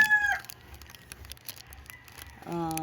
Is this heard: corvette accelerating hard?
no